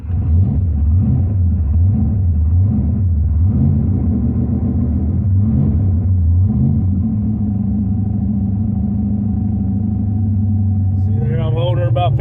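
A cold carbureted engine is held at a steady fast idle of about 1,500 RPM while it warms up, a loud, even rumble running throughout the clip.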